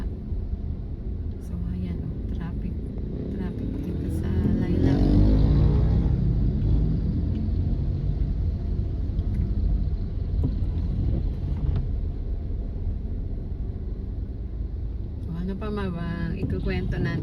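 Vehicle traffic moving through a flooded street in Lilac, a low rumble that swells as something heavy passes close around the middle, then settles into steady road and wind noise with voices speaking over it.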